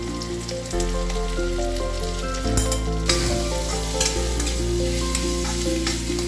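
Onion, garlic and ginger paste fry in a hot pan with a steady loud sizzle, broken by occasional stirring scrapes and louder spits.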